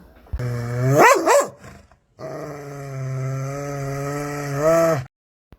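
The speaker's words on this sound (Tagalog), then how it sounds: "pinaingay ni Lamang ang kanyang aso" A dog close by gives a couple of wavering yelps, pauses, then lets out one long, loud, sustained howl.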